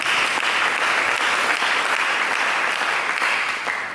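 A church congregation at a sermon breaks into thick, sustained clapping that stays loud and uniform for several seconds before easing slightly at the close.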